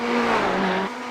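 Ferrari race car in an iRacing sim race at Sebring, a steady loud engine drone with a sustained tone that drops off abruptly near the end, with no talk.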